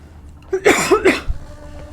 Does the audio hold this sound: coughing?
yes